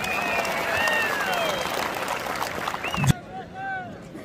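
A crowd applauds steadily at a kurash wrestling bout, a dense wash of clapping under a voice on a public address, cutting off sharply near the end.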